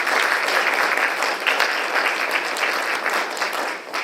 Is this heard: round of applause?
yes